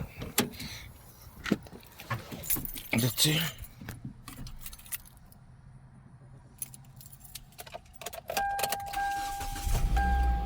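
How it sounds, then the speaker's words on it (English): A car turned on after a jump start with a portable jump starter: keys jangle and door and cabin clatter under brief speech, then near the end a louder low rumble builds as the engine comes to life. "Once it's green, we can go to the car and turn it on."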